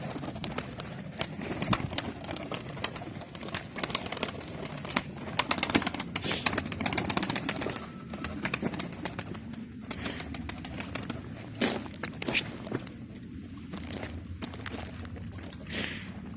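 Soft pigeon coos mixed with rustling, flapping and scattered clicks, fairly close, with no talking.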